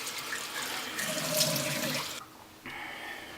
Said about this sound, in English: So I'm gonna go ahead and get it rinsed.